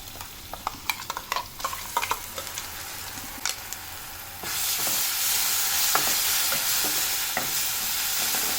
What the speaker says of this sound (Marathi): मसाला एकदम छान असं तेलात आता भाजून घ्यायचं तेल सुटेपर्यंत